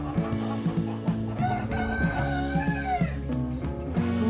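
Hens cluck in a chicken coop, rhythmic repeated clucks close by with a rooster crowing over them and a steady low background hum.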